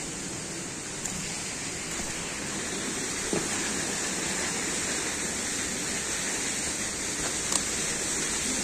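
Okhreni waterfall at Sundarijal roars steadily and close, a dense unbroken rush of falling water that holds at an even loudness throughout, with a couple of faint knocks over the top.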